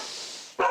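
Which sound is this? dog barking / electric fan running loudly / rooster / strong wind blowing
dog barking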